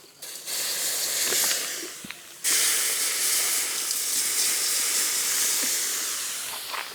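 A loud, sustained hiss of water poured onto hot cast metal in a homemade gas-cylinder melting furnace, flashing to steam, briefly dipping then surging again and fading slowly.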